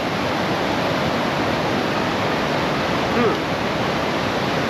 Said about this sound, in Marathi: तर असा आहे हा घाटमाथ्याचा धबधबा